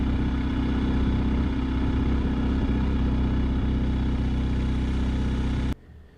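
Motorcycle in first gear during a slow low-speed lean practice drill, a steady close engine drone at low revs with little change, cutting off abruptly near the end.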